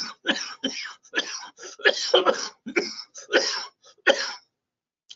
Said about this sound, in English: can't get rid of this cough recently